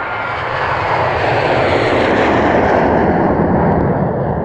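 An airplane engine roars loud and steady overhead, a dense continuous rumble that swells slightly and holds for several seconds with no other sound.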